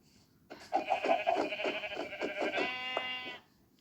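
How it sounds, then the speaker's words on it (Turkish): Sheep in the Minecraft video game bleat in a quick run of repeated wavering cries, loud and close, ending in one longer drawn-out bleat, with no talk over it. "Son koyunum."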